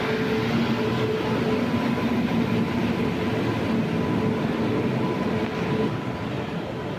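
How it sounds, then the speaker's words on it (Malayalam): The Trivandrum Central Mail train arriving at Palakkad station, a loud, steady rumble of rolling coaches with a low mechanical drone and faint tonal hums, continuous and close, with no talking. "ഇപ്പുറത്ത് നമുക്ക് യാത്ര ചെയ്യാൻ പോകേണ്ട നമ്മുടെ ട്രെയിനും വന്നിരിക്കുകയാണ്"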